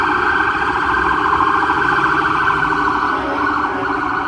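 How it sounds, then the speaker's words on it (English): Sirens wail continuously and loudly, a steady rising-and-falling tone over street rumble on 3rd Avenue in New York City. "As always, noisy, lots of sirens."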